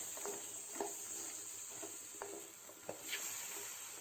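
Makhana (fox nuts) are stir-fried with lemon juice and sugar in a pan, giving a faint, quiet sizzle under a steady hiss with a few soft scrapes and taps from stirring, heard close with no talk.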